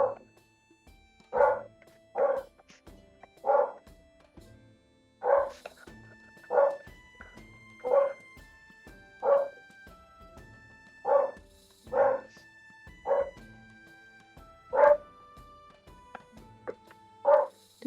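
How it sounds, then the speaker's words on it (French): A dog barks indoors in the background during an interview at a craft workshop, about fourteen sharp, evenly spaced woofs at moderate distance, each short and clear with quiet gaps between and no talking over them. "Désolée pour les aboiements du chien au fond."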